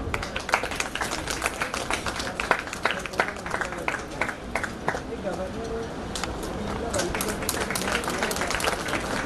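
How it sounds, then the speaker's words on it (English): Applause from an audience welcoming a guest at a youth parliament closing ceremony. A moderately distant crowd claps steadily for several seconds, with voices murmuring underneath. "I request our Honorable VC to please welcome her with this clapping."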